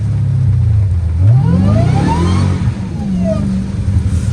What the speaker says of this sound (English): Yeah, little burnout, little chill burnout